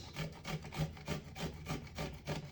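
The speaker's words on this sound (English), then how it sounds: "For the garlic, we're going to grate" Garlic cloves grated by hand for a cheesy quesadilla, a steady rasping rub repeating in short strokes about every third of a second, close and moderately loud with no talking.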